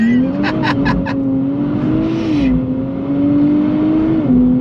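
A 2024 Nissan Z Nismo sports car engine revs and accelerates loudly through bends, its pitch climbing and shifting between gears, with a brief high whine near the start.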